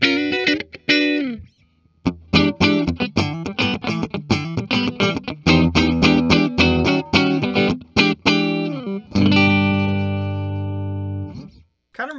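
An Epiphone B.B. King Lucille electric guitar with its Varitone in position 4 plays a bright, glassy run of picked notes and chords, close and loud, ending on a ringing sustained chord.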